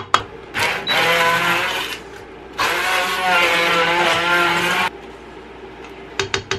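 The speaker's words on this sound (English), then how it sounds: "I'm going to use my immersion blender to break this up" An immersion blender whirs in two long bursts with pauses between, close and loud, pureeing a no-tomato marinara sauce, with short clattering sounds near the end.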